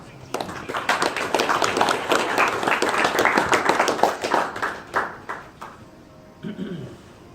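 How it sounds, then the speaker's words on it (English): A crowd bursts into applause, dense clapping that swells and then tapers off, followed by a brief moment of quieter sound. "Please welcome him with a big round of applause."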